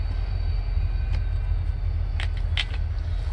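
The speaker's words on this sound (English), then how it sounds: "please ignore the train in the background and the chickens" A train rumbles steadily in the background, a continuous low drone that persists throughout, with a few brief higher rattles and squeaks rising over it.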